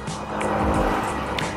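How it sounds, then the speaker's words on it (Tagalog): A 2020 Yamaha NMAX scooter engine, which has covered more than 17,000 km, fires up and runs at a steady idle. Its hum holds close and even throughout, and no one speaks. "nag-i-start na yung motor natin."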